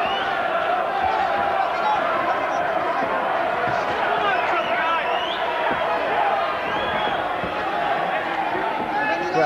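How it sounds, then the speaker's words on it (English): A boxing crowd at a Herol Graham versus Vinny Pazienza bout cheers and roars for Graham. The noise is a steady, dense wash that holds all the way through, loud and continuous, with murmuring voices inside it. "Crowd beginning to get behind Graham."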